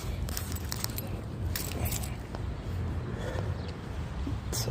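A ring of keys jangles close up in repeated bright metallic bursts while the right key is picked out by a car, over a steady low rumble.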